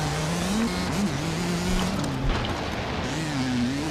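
A racing motorcycle engine screams at full throttle during a road race, its high sustained whine rising and falling steadily with shifting pitch, loud and continuous with no talking.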